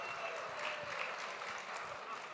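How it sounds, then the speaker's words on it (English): Quiet clapping from a small audience at a conversational talk event, a soft, steady patter of hands heard at a distance and low in level, blended with faint voices. "Why'd you clap when she said I was right?"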